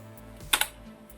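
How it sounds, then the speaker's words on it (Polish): Two quick keystrokes on a keyboard connected to a PC built into a printer, sharp close clicks standing out against a quiet background hum. "O, klawiaturka też działa."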